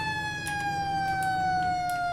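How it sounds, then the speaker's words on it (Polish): Emergency vehicle sirens from the video game Flashing Lights, steady electronic tones gliding slowly downward and layered together, loud and continuous with no talking. "ja dzisiaj testuję syreny"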